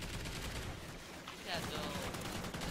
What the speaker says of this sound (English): A guy was shooting my gun.